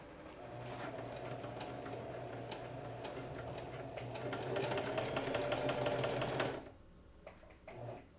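A sewing machine stitches a custom art tool roll with a steady, rapid mechanical whir and ticking that grows a little louder midway, then stops abruptly, followed by a brief faint hum.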